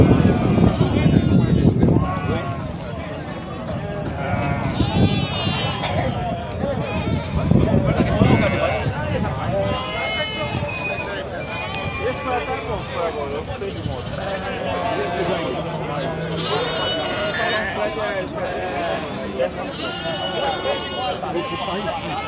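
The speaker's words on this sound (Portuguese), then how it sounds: "Só ovelhas paridas aqui, ó, com os borreguinhos" Sheep and lambs bleat repeatedly at a goat and sheep livestock fair in Sumé, Paraíba, with ewes and young lambs penned close by, their calls overlapping under steady crowd chatter and nearby conversation throughout.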